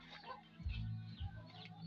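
Hens clucking and murmuring nearby in a few short low bursts, with faint outdoor bird sounds in the background.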